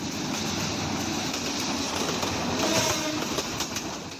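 A train rolls across an old British-era railway bridge in Sylhet with worn wooden sleepers under the track, giving a loud, continuous rumble with faint rhythmic clatter throughout.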